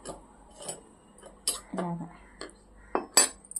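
Small metallic clinks and taps as a metal plate is lifted off a sewing machine, a few sharp isolated knocks spread over a few seconds, close and fairly quiet.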